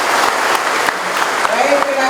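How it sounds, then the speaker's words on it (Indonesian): Audience applause at a morning assembly of an Indonesian law ministry training agency, a steady dense clatter of clapping filling the whole stretch with a few sharper claps and a voice speaking briefly underneath. "Tepuk tangan untuk kita semuanya"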